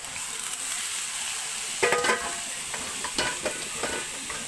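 Chopped bottle gourd (upo) hits a hot pan of sautéed tuna and starts sizzling, followed by scraping stirs of a utensil against the pan, close and clear with no talking.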